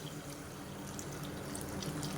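Water pours into a cooking pot in a home kitchen, about four tumblers measured for a lunch-box dish. The pour makes a continuous close splashing rush with no speech.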